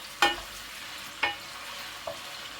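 Meat sautés over high heat in a pan for a Turkish chickpea stew, with a soft continuous sizzle broken by three separate stirring scrapes of a utensil.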